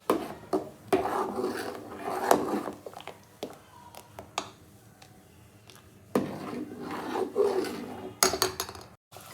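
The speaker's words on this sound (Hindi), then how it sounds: "देखिए मेरा पूरा सिंक भर के बर्तन हो गए और अब बस इनको धुलाई।" Pots and utensils are scrubbed and rinsed in a full home kitchen sink, with irregular rasping rubs and clinks coming in bursts, some louder than others, with short quieter pauses between them.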